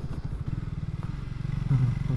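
A Triumph Speed 400 single-cylinder motorcycle engine thrums steadily up close while riding, a low pulsing beat that swells slightly toward the end, with no talking.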